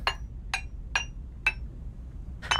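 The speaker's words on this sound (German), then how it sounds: "So, klopfen wir jetzt einfach den hier ein bisschen platt." A hammer strikes metal at a forge in the BlackForge VR game, flattening a spear blank: five sharp, ringing metallic blows, four evenly spaced about half a second apart, then a short pause before a final, fuller strike.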